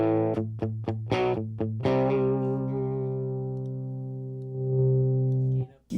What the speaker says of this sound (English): There's VO Drive, which is a Vox AC30 TB drive sound.